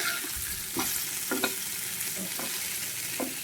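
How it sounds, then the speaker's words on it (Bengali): Fish fries in a pan with a close, steady sizzle. Scattered stirring clicks and spatters break through it at irregular moments, and no one talks. "তো মাছটি ফ্রাই হইতে থাক"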